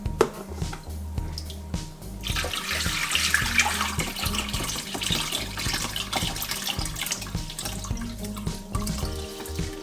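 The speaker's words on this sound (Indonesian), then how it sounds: "Sekarang kita akan cuci yang kacang hitam." Tap water running steadily into a bowl of soaked black beans being rinsed for tempeh, a continuous close splashing rush with soft sloshing and clinks, no voices.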